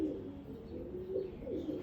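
A brief stretch of low, throaty cooing from pigeons offered for sale, continuous and close at moderate loudness.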